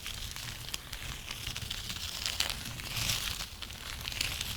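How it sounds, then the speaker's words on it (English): A gallon Ziploc plastic bag filled with golden Thai rice crinkles and rustles close up, soft irregular crackles and shuffling grains in steady handling with small louder squeezes, no talking. "I'm going to be playing with this plastic bag filled with rice"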